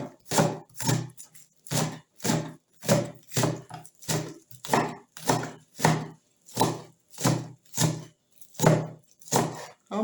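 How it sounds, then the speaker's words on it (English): A knife chops spring onions on a board in a steady series of sharp, close knocks, about one per second, with no talking. "I'm going to be dicing this."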